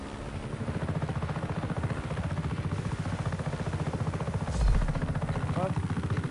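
A helicopter in the video game Just Cause 3 gives off a steady, rapid rotor chop and engine drone that stays loud and continuous throughout, with a brief swell near the end.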